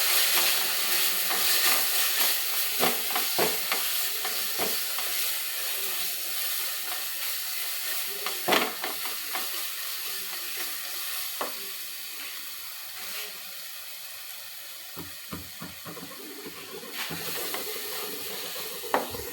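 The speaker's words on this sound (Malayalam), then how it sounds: "നന്നായി പച്ചമണം പോണ വരെ ഇളക്കി വെക്കാം." Coriander and chili powder masala frying in oil for a chicken biryani and being stirred, giving a soft, steady hiss with occasional sharper scrapes and ticks, fairly quiet and with no voices.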